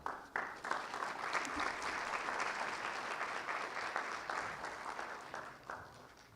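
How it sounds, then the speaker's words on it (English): Sustained applause from a sizable crowd at a university event, steady clapping throughout that tapers slightly at the end, no voices over it. "let us give another round of applause to David Malpass"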